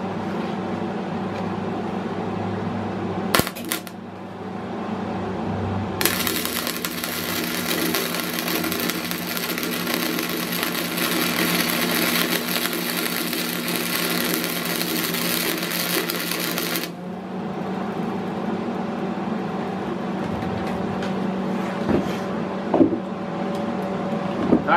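Small 90 amp welder laying weld onto a broken bolt in an engine block, a loud crackling buzz running steadily for about ten seconds between quieter stretches of background hum and brief clicks.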